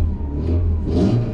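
A Škoda Felicia running with an almost missing exhaust, its engine revving in a loud, rough, continuous drone with a swell in pitch midway, heard close and alone.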